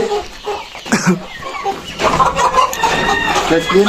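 A rooster clucks repeatedly in short, throaty bursts, close by, with voices talking around it.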